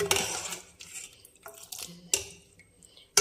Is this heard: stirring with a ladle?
yes